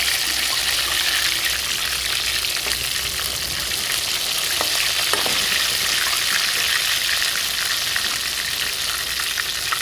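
Chicken leg pieces fry in a pan, giving a loud, dense, continuous sizzle and crackle with a few faint scrapes, with no voices.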